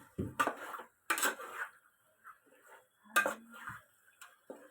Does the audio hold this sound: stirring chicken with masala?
yes